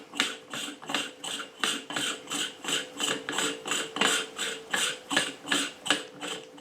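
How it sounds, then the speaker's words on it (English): A threaded MaxpeedingRods coilover for a SAAB is adjusted by hand, giving a steady ratcheting click repeated about every half second, close and moderately loud with no voices. "So you can see just by doing this, it threads out so long."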